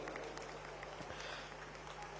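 A large outdoor audience at the Bastar Pandum festival in Jagdalpur applauds prize winners, a continuous dense wash of clapping over a low electrical hum from the sound system.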